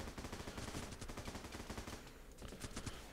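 Sustained automatic gunfire in the war game Running With Rifles rattles in dense, overlapping bursts throughout, a continuous barrage of rapid shots at moderate distance and fairly low level, without talking.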